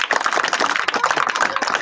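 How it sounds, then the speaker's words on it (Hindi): Crowd clapping around a street magic show, quick uneven bursts of hand claps close by, fairly faint and thin, with a little chatter. "ताली मारो सभी मेरे माई बाप"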